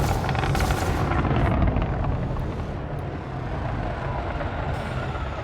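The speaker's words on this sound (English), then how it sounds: "These burst lasers seem to be doing a good number on his ship." Burst lasers firing from a Fer-de-Lance at an enemy ship in Elite: Dangerous, a dense continuous roar of rapid rumbling blasts over engine drone, loud and close without a break.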